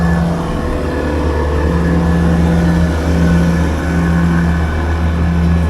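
Motorboats loaded with fish run past a village shoreline, a loud continuous engine drone with a steady low hum and slight swells in level, no voices.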